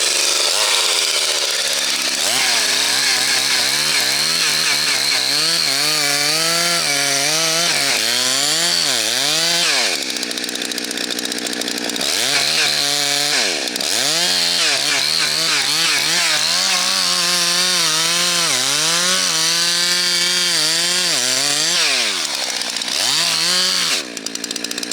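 A chainsaw cuts a face cut into softwood timber, loud and close, its engine pitch repeatedly dipping and rising as the chain bites through the wood with steady rasping.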